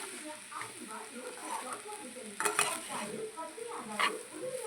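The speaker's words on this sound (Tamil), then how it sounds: "லெமன் ஜூஸ் போட்டு அப்படியே கிளறிக்கலாம்" Lemon rice stirred in a pan after lemon juice goes in, with a soft sizzle, scraping stir strokes and a couple of louder clinks.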